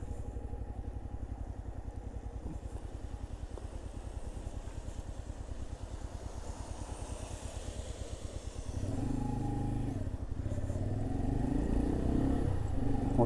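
A Chinese 125cc motorcycle ridden through rain on a wet road, its engine a steady pulsing drone under wind and spray, rising louder and rougher in the last few seconds.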